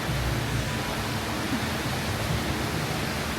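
Steady broadband rush of an indoor waterfall inside Changi Airport in Singapore, a constant even roar of falling water with no break or voice over it.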